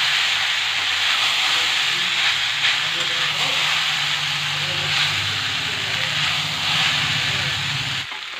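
Boiled chowmein noodles with capsicum fry in hot oil in a home kitchen, giving a loud, steady sizzling hiss that runs close and unbroken, with a faint low rumble underneath, then drops off at the end.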